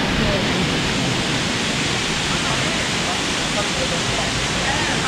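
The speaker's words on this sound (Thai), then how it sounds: "เห็นน้ำตกกันไหม" A waterfall in Sapa, northern Vietnam, gives a steady, even rushing roar that fills the whole clip at a constant, moderate level.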